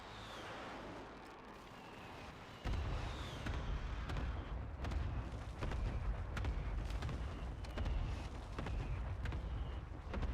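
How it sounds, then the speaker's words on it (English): Heavy booming blasts from a precision airstrike in the Warzone video game, a sudden deep impact that gives way to a dense run of sharp, repeated detonations and rumbles, loud and continuous to the end. "Precision airstrike standing by."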